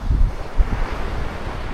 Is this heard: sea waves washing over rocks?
yes